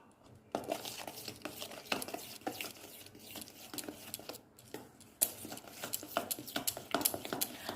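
Flour being mixed into cake batter in a bowl: soft, repeated scraping and tapping strokes of a utensil against the bowl, quiet and close, in an irregular stirring rhythm.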